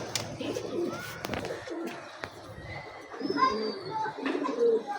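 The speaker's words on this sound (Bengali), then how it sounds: "হ্যাঁ, আমার কবুতর" Pigeons of silver and golden colour coo on a rooftop, soft repeated calls mixed with faint chirps and occasional sharp clicks, with some quiet speech-like sounds in the background.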